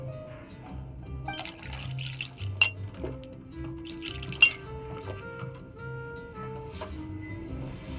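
Juice poured into a glass in Genshin Impact, a quiet trickle of liquid with light glassy clinks and a rising tone as the glass fills, set against soft background music.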